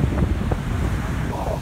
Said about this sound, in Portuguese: muito vento hoje aqui